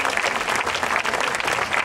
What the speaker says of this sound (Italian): che accoglieremo con un grande applauso, Ugo Gregoretti.